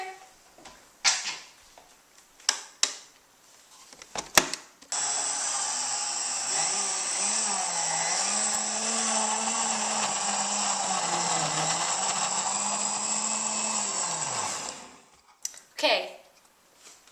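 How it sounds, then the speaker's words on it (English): A kitchen blender whirs steadily for about ten seconds as it purees oranges and pineapple for an aloe juice, its motor pitch wavering as the fruit churns, framed by someone talking and clicks before and after. "Now, turn on the blender."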